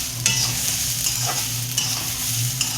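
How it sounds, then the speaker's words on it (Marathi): Raw peanuts fry in masala for a spicy bitter gourd curry, stirred continuously with a steady close sizzle and repeated scraping strokes against the pan, no talk. "शेंगदाणे कच्चेच घालायचे, भाजलेले घालायचे नाहीत, कारण ह्याच्यात ते चांगले फ्राय होणार आहेत, म्हणजे भाजले जाणार आहेत मसाल्याबरोबर"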